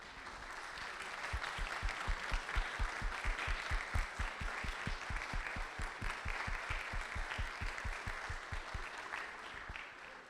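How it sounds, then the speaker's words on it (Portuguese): Audience applause at a company accountability presentation, a rhythmic wave of clapping that falls into unison beats, moderately distant and steady for about ten seconds. "Gostaria que eles levantassem uma salva de palmas para os empregados da Forluz."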